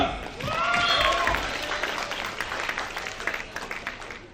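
A crowd claps at an NTR centenary celebration event in Perth, Australia, with a dense, sustained wash of applause, and a voice speaks over the first moments before the clapping carries on alone.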